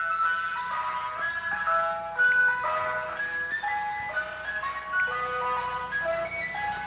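A Mister Softee ice cream truck plays its tinkling jingle melody while driving up the road outside, a bit distant with steady traffic noise beneath.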